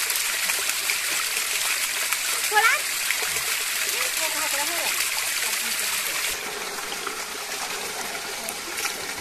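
Irrigation water flows across a farm field in a steady broadband rush with splashing, continuous and fairly loud, while voices talk over it.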